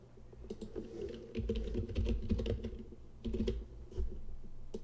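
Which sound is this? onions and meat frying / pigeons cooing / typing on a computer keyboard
typing on a computer keyboard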